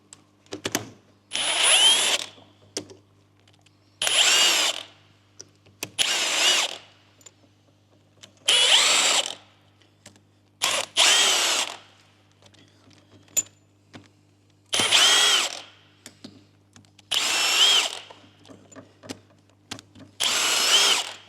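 Milwaukee 3/8 air gun undoing threads on a McLaren 650S engine during a strip-down, about nine sharp rattling bursts of roughly a second each at regular intervals, close by, with faint clinks between them and no speech.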